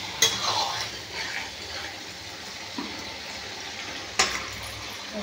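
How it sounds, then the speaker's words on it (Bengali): Garam masala being stirred into a potato dish in a pan gives a soft, continuous scraping under a faint sizzle, with a couple of sharp utensil clinks against the pan near the start and again later. "দিয়ে একটু ভালো করে মিশিয়ে নেব।"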